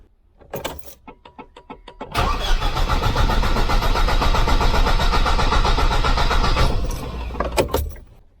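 A Volvo 240 with a B230 redblock engine cranks with a few quick stuttering turns, then catches and runs loud and rough for several seconds before dying back to sputters.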